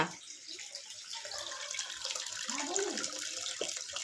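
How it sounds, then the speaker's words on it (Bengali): Water runs continuously from a household tap that will not shut off, a steady splashing hiss close by, with faint background sounds. "এই জলটা তো পড়ে যাচ্ছে"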